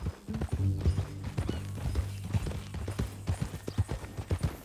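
Horse hooves clip-clop at an easy walking pace in Red Dead Redemption 2, a steady series of moderately close, hollow thuds over a low background rumble.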